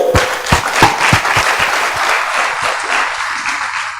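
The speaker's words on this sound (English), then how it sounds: "let's clap for them." An audience claps at the close of a content creators training session, with several sharp individual claps standing out at first before settling into looser, thinning applause.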